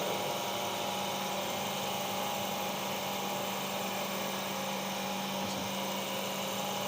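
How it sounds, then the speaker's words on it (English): A hydraulic motor on a training rig spins at maximum RPM, set by a flow control valve, giving a steady, even mechanical hum and whine that holds constant throughout at moderate level, with no speech. "So right now it is rotating at the maximum RPM."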